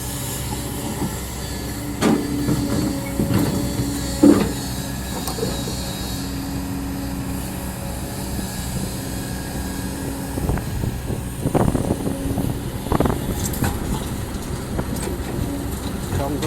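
A Kobelco SK200 Gen10 excavator with a Hino J05EG engine digs a deep pond, its diesel drone loud and steady, with occasional clanks and knocks rising above the running engine.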